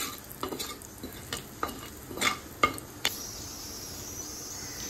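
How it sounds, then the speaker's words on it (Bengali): White cumin, cinnamon and small cardamom crackle in hot oil, with a string of sharp pops and stirring clicks early on that settle into a steady soft sizzle. "এবার এই তেলে কিছুটা পরিমাণে সাদা জিরা, দারচিনি আর দুটো ছোট এলাচ ফোড়ন দিয়ে দিলাম।"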